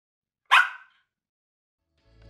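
A dog gives a single sharp, close bark, followed by silence and then a faint low tone rising at the very end.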